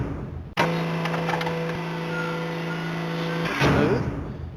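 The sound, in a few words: door opening with sound effect in a video game editor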